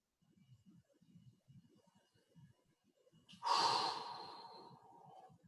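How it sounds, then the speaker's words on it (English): A person takes a deep, audible breath during a stretching session: soft low murmurs first, then one strong airy inhale or exhale that fades slowly, close to the mic with no speech. "Big deep breaths."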